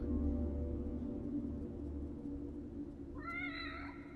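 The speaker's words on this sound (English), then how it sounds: "That is a kitty cat with a red bow." Single drawn-out meow from a cat in the horror video game The Evil Within, rising and wavering near the end over a steady low game hum, with no talking.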